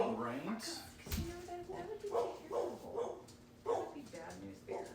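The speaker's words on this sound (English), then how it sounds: "sorry about the dogs barking" Dogs bark and yip repeatedly in the background of a room while a person talks over them, the barks moderately loud and intermittent throughout.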